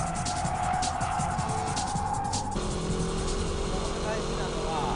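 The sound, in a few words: car performing a braking drift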